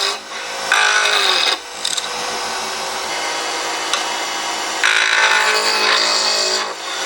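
Wood being roughed out on a lathe with a skew chisel, shaping a small box: a loud, steady hissing and scraping as the blade cuts across the spinning piece, with brief pauses between passes.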